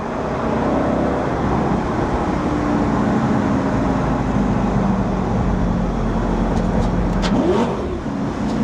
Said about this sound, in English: Downshifts are wicked, aren't they?